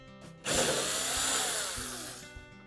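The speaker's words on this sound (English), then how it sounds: "remove the screws along the sides, and there's one at the top as well" Power drill backing screws out of a Frigidaire range's lower access panel, a loud sustained whirring that starts abruptly and fades toward the end.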